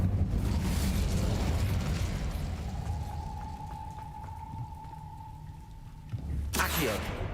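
A fire spell is cast in a Harry Potter video game: a noisy magical rumble carries a sustained ringing tone, then a sudden loud fiery burst flares near the end.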